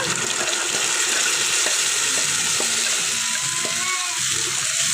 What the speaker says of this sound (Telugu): బాగా బాగా ఇట్లా చిన్నగా వంట పెట్టుకొని కలుపుతూనే ఉండాలి